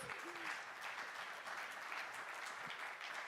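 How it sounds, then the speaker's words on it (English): Faint, steady applause from an audience at a tolerance day event continues briefly without any speech. "Can we please clap for Issa on this response?"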